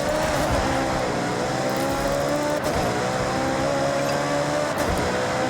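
A supercar racing in Forza Horizon, its engine droning loud and constant with rising and falling revs, tyre squeal and brief skids over a dense race mix, no talk.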